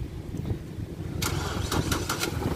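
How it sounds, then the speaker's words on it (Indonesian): A Nissan Almera's engine is started with the key, a burst of close starter cranking that catches into a running engine, with no one talking. "ini Almera kita matiin mesinnya di kontak on dulu starter oke ini ini baru mesin nyala"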